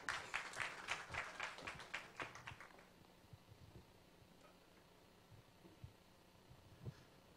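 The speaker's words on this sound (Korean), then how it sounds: "박수로 모실게요." Clapping from a venture forum audience welcoming a presenter, a brief round of claps for about three seconds that quickly dies out, followed by quiet room noise with a few faint knocks.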